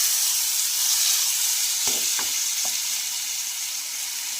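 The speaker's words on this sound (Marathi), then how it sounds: "आणि छान असं फ्राय करून घ्यायचं आहे ह्या भाज्या" Mixed vegetables fry in a pan with a constant bright sizzle, and a few quick scraping stirs land around the middle before the hiss carries on alone.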